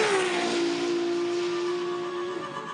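A Ferrari LaFerrari drives on the Fiorano circuit, its engine giving a steady, continuous high drone throughout at moderate distance, with no voices.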